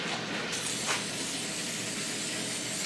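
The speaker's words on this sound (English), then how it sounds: "the reason why I spray it and coat it, it keeps the sand from coming off" Aerosol spray coating sand on a homemade aquarium background: a steady, close hiss running unbroken for the whole stretch, loud and even with no pauses.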